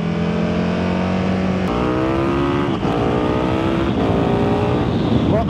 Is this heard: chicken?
no